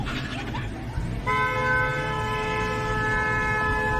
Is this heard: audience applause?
no